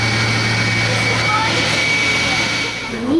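Steady, loud multi-role military helicopter engine roar with a constant low hum and high whine, continuous throughout, with a brief rising tone near the end, heard from inside.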